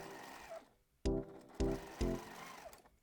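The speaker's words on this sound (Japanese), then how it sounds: "ミシンで縫っていきます。" A sewing machine stitches the waist-to-pocket seam of a fabric drawstring jumper skirt with a 1 cm seam allowance. Three short, close whirring bursts stop and start with brief pauses between them, and no one speaks.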